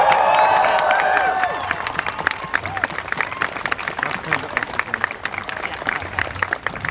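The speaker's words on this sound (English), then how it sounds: "Can we get a massive cheer for them, please?" Protest crowd outside Downing Street cheering and clapping, a loud burst of whoops and applause that gradually thins into scattered claps and calls over several seconds.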